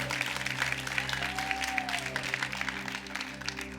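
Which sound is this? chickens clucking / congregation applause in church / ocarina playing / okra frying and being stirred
congregation applause in church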